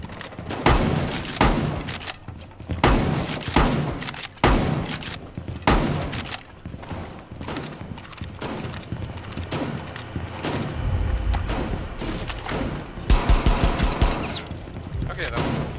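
Gunshots in Rainbow Six Siege during a bomb match on the Oregon map: repeated loud, close shots and short automatic bursts with heavy thumps, spread unevenly, and voices speaking between them.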